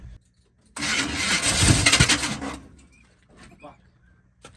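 A 1980 Chevrolet K30 Squarebody truck engine cranks and catches, runs roughly for about two seconds, then dies away to near silence, heard close and loud.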